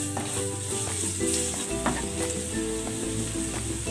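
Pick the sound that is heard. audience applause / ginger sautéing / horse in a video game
ginger sautéing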